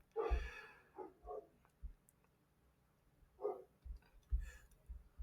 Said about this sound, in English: excuse the barking dog in the background